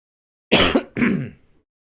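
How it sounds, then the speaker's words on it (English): A single adult throat clearing followed by a short cough, close and loud, two harsh bursts in quick succession with silence before and after. "Excuse me, I'm going to cough for a sec."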